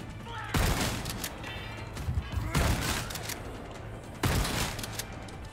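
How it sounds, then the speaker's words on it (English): Three loud, booming shotgun blasts from the Resident Evil 4 Remake video game, spaced about two seconds apart, each with a heavy low thump and a decaying tail over continuous game background noise. "You've survived 3 shotgun shots?"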